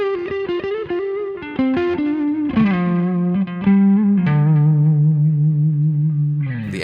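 Electric guitar runs through a Klon overdrive pedal, giving a lightly driven tone as a melodic line of sustained, gliding notes slides gradually lower, played close and steady with no talking.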